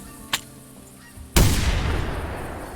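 Geese honking in theHunter Classic video game, followed by a sharp shotgun blast with a rolling echo that trails off; a short crack comes earlier amid the calls.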